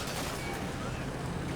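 Gunfire rakes an M113 armored personnel carrier at point-blank range in a war video game, a dense, steady crackling roar that fills the whole stretch without a break.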